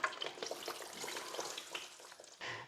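Beignets frying in hot oil in a pan give a steady, busy crackle and sizzle, close and fairly loud with no voices.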